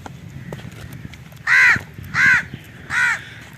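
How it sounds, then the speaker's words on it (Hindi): A crow caws three times, loud and close, with even gaps between the harsh calls over a quiet outdoor background. "कौवा यहाँ पे बैठा हुआ है"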